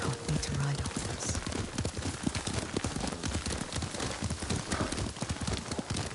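Horse hooves clip-clopping at a steady riding pace in the video game Ghost of Tsushima, a continuous rhythmic patter under people talking, with a faint whinny.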